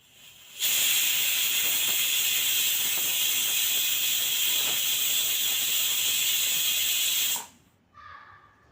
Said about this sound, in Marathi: आता कुकरला झाकण लावून आपल्याला चार ते पाच सिट्ट्या काढून घ्यायच्या